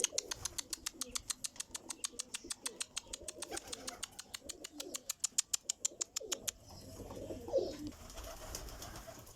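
Domestic Iraqi flying pigeons coo softly and at a distance over a run of quick, regular clicking pulses, which give way to quieter murmuring coos and a little chirping.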